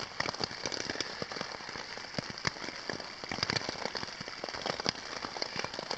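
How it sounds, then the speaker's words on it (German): Rain falls on a wooden hut in the mountains at night, a steady patter of dense, scattered drops with sharper individual taps, fairly quiet and without voices. "und es regnet."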